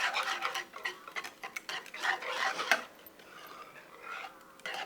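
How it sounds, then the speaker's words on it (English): Cheese being stirred into a Swiss cheese sauce in a pot, giving a run of soft, irregular scraping and clicking strokes close by, with no talking. "So just kind of add some cheese in here. Give it a stir."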